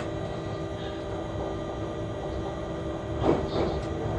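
Train wagons roll on rails in a steady, dense rumble, with a brief louder clank near the end.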